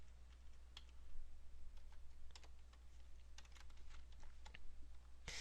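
Quiet computer keyboard typing with scattered, irregular key clicks in short bursts over a steady low hum, fairly faint and close.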